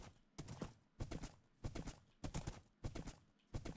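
Horse hooves clip-clop in a hoplite battle royale video game, a quiet, rhythmic run of soft hoof beats in evenly spaced clusters, faint and with nothing else heard.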